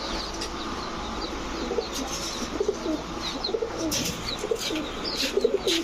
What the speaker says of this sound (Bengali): অনেক যারা গলা কষা খুঁজতেছেন ফুল স্প্রিং গলা কষা, তাদের জন্য এই কবুতরগুলা